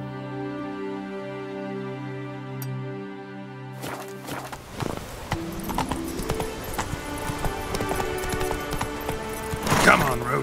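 Roach, a horse in Witcher 3, galloping with quick clip-clopping hoofbeats that start about halfway through, close and fairly loud, after a stretch of steady tonal music, with a brief voice.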